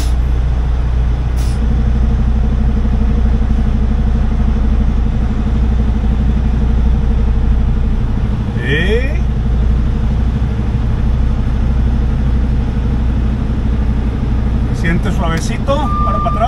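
A truck's engine idles with a steady low rumble while the vehicle is eased gently forward and back, with brief hissing air releases near the middle and end of the clip.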